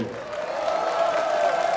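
An audience at a Frühschoppen, an Austrian morning folk gathering in Matrei, Osttirol, cheers and claps in a dense, sustained wash of crowd noise that swells slightly and holds.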